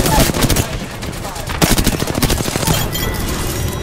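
Rapid gunfire in Apex Legends, a shooter video game, with dense bursts of automatic shots crackling loudly through the whole stretch and a fresh volley partway in, with no voices over it.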